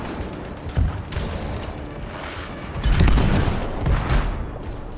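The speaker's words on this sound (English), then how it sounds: "Oh, I'm getting shot from all angles." Gunfire and booming impacts in the shooter game Anthem, a loud, busy mix of shots and blasts that swells mid-way and stays dense throughout.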